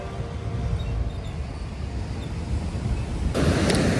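Ocean waves wash in at RK Beach in Vizag in winter, a continuous low roar of surf mixed with wind buffeting the microphone, steady and fairly loud, and a slightly brighter surge near the end.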